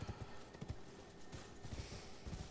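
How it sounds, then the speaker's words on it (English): Horse hooves clip-clopping in a dark fantasy video game, a quick rhythmic gallop of close, soft thuds over a low ambient bed, moderately faint and alone. "I'm going to get off my horse."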